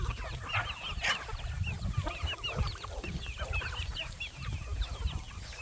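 A flock of chickens, including large Indian Gigantica birds, clucks and chatters continuously at close range in a farmyard, with overlapping calls and a steady busy murmur and no talking.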